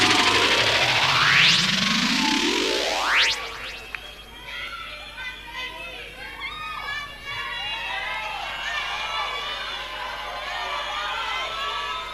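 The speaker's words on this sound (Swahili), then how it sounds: "Wapi kelele ya Jerry wewe? Jerry!" A sweeping electronic whoosh gives way to a large crowd cheering and shouting, many overlapping voices and whoops filling the space.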